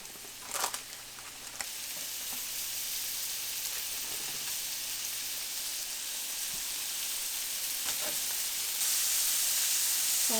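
Seasoned burger patties sizzling in a hot pan, a steady bright hiss with a few pops and scrapes early on, growing slightly louder toward the end, no voices.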